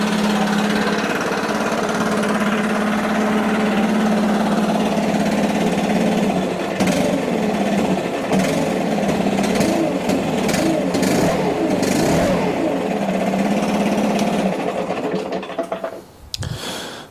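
Stihl BR600 backpack blower engine running steadily at a loud, close drone, then bogging and surging erratically at full throttle before sputtering and dying out near the end.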